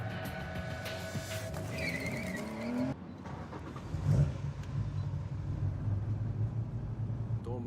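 A Nissan Skyline driven on a street at full throttle: a steady, loud engine roar that shifts in pitch partway through, then rumbles on close by.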